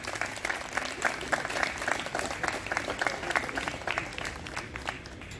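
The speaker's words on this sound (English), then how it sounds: "I just want all of us to just give them a huge applause." Applause from a large audience at a trailer launch event for The Night Manager, steady dense clapping that fills the hall throughout at moderate volume, with faint crowd noise mixed in.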